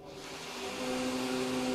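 Steady mechanical drone of construction work carrying over from a neighbouring house, a continuous whirring hum with a strong tonal whine, fairly loud and unbroken throughout.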